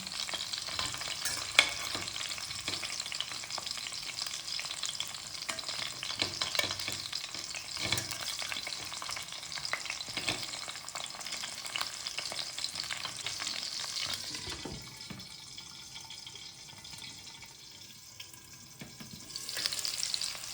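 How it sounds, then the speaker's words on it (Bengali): Potatoes sizzle and crackle steadily in hot oil, with occasional stirring scrapes, loud and continuous before settling into a quieter fizz. "দেখুন আলুগুলো ভাজা হচ্ছে"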